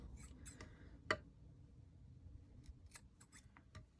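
Scissors snip thread while trimming a tied knot on a small handmade ornament, giving a few sharp isolated clicks spread over a quiet background, with one crisp snip at the end.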